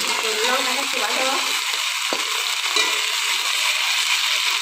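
Green chili and ginger frying with fish in a pan, a steady broadband sizzle that stays loud and even throughout, with faint stirring clatter and one brief knock partway through.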